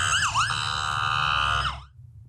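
Emergency escort sirens from fire and ambulance vehicles in a community send-off, a loud wailing siren sweeping up and down close by, with a second tone layered in before it cuts off near the end.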